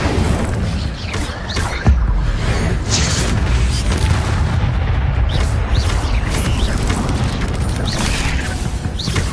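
An Incendio fire spell is cast in the Hogwarts Legacy video game, heard as a loud booming burst followed by a continuous roaring, crackling rush of game effects.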